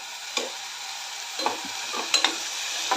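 Potatoes and a green chili hit a hot pan with chickpeas and sizzle steadily, while a spoon scrapes and stirs in several distinct strokes over the continuous frying hiss.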